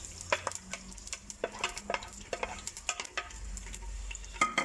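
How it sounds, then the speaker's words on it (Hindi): About 250 grams of onions sautéing in roughly a cup of oil inside a clay handi for matka meat, with a steady soft sizzle broken by frequent sharp spoon scrapes and knocks against the pot, close by. "प्याज जो था 250 ग्राम प्याज, ये हम हांडी में डालने लगे।"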